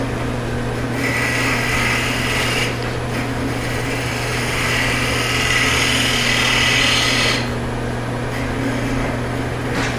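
A woodturning lathe spins while a gouge shapes the upper curve of a wooden hollow form. A steady motor hum carries a continuous rough cutting hiss that swells and eases as the tool works, loud and close, with no talking.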